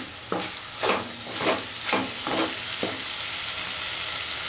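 Marinated chicken pieces fry in a pan with a steady close sizzle, broken by about six regular stirring scrapes that rise briefly in loudness.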